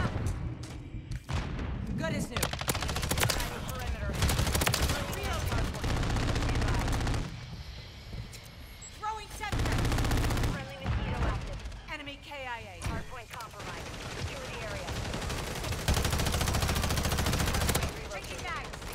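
Rapid bursts of BAL-27 rifle fire from Modern Warfare 3 rattle loudly in repeated strings, mixed with other game gunfire and explosions, with a voice talking over the action.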